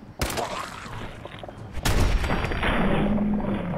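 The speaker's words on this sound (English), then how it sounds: "didn't mean to shoot him in the chest" Gunfire in Fallout 4, two sharp loud shots about a second and a half apart, each followed by a booming, rumbling tail that stays heavy to the end.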